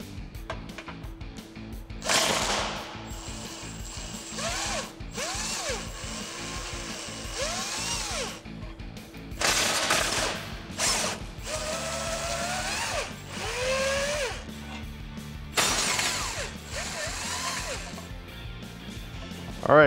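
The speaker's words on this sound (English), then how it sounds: "I'm going to do this utilizing our 18mm socket we used earlier" An 18mm socket on a ratchet works the cross member bolts of a Jeep Wrangler JLU Rubicon during a suspension lift install, giving repeated bursts of clicking and clattering close by with short pauses between them and no talk.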